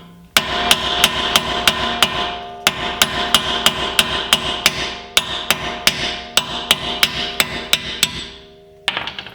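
A hammer drives an ARP extended wheel stud through a wheel hub: about twenty sharp, ringing metal strikes in quick, steady bursts of five or six, close and loud, with short pauses between the bursts.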